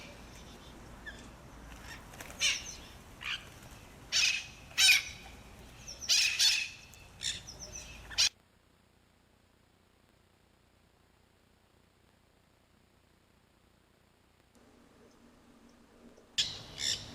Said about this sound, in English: The Mitred Conures also joined in.